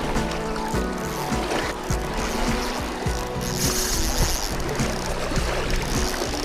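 Choppy water slaps and laps steadily around a fishing boat during a fall carp fishing outing, a broad continuous wash with irregular splashes and knocks close by, no voices.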